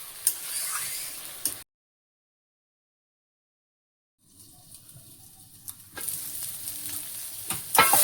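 Bay leaf dropped into fish curry bubbling on a gas stove sizzles loudly, breaks off into a couple of seconds of silence, then the frying hiss and sizzle return alone.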